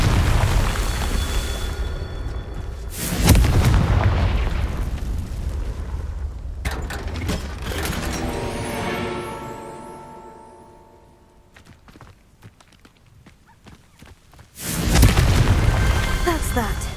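Booming fire-spell explosions from the Confringo spell in Hogwarts Legacy burst loudly at the start, around three seconds and near fifteen seconds, with quieter game sounds and a fading rumble in between.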